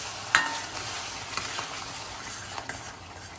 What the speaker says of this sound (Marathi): उरलेला मसाला पण आपण ऍड करून घेऊया आणि मसाला चांगला भाजून घेऊया